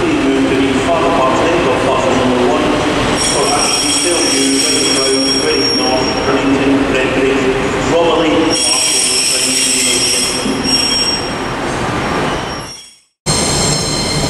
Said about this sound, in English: arriving in now, we've got a double pairing of pacers